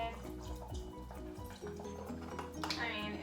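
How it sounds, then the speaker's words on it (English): A small splash of chicken broth poured into a pan for protein chili, a brief liquid pour and drip heard under a person talking. "I just add in a little splash of this chicken broth"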